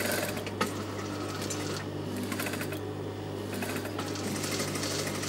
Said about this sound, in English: lead the needle down and pivot the fabric around, creating an as neat corner as possible and working around